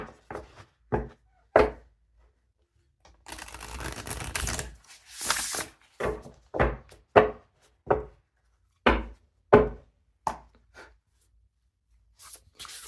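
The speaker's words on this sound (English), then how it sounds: "One more shuffle." Tarot cards being shuffled and tapped on a surface, with a series of sharp, close slaps and riffles spaced through the clip and a couple of longer rustling bursts.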